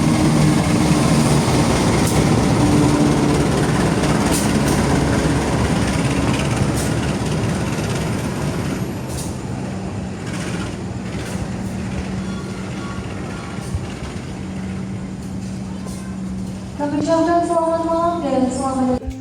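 The Airlangga passenger train rides from Tegal toward Pasar Senen, with a loud rolling rumble and rail clatter that eases midway. A tonal horn rises near the end, and voices are faintly heard.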